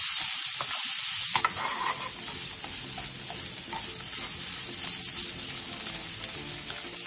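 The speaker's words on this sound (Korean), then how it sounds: "그 다음 볶아놓았던 계란을 넣고 골고루 어우러질 정도로 볶아주세요." Cucumber and scrambled egg sizzle together in a pan, a constant frying hiss after a brief opening clatter, with faint scraping stirs underneath.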